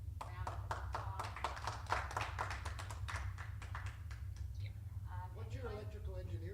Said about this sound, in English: Let's give us some round of applause